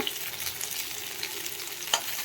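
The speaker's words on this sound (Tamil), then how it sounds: "அது வரைக்கும் நல்லா பொரித்து எடுத்துக்கணும்" Steady crackling sizzle of chopped pirandai (veld grape stems) frying in hot oil, continuous and close, with a brief sharper pop near the end.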